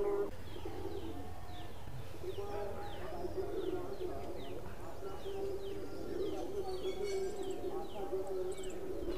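Young Madrasi Highflyer pigeons coo at their loft in a low continuous murmur, with scattered chirps over steady background noise and a voice talking across it.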